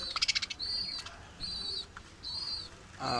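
Caged pet birds, including albino and yellow lutino birds, give a burst of fluttering wing flaps followed by several high, thin chirps spaced out against quiet background noise, with a short flutter at the end.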